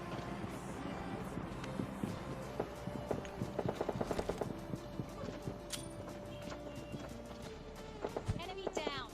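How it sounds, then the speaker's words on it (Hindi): Quick running footsteps in the PUBG Lite video game patter in irregular bursts mid-clip and again near the end, fairly faint under game ambience and spoken commentary. "हमको पैरों की आवाज आ जाती है।"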